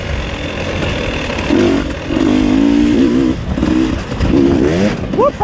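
A dirt motorcycle engine held in third gear on a wooded trail ride, a steady close drone that rises and falls in pitch with throttle changes, ending in a couple of quick revs.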